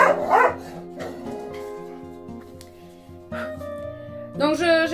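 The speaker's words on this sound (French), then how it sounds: "Les chiens." A dog barks and yips up close indoors in a home, several sharp barks at the start and again at the end, with whimpering sounds between them.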